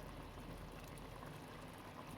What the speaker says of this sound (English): it's boiling, it's frying at the same time